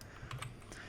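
A single computer keyboard key press, faint and close, set against a soft background hiss.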